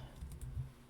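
Code is being typed on a computer keyboard, a Python hello-world line entered in a beginner lesson. Quiet, soft key clicks come in a quick, uneven burst, heard alone.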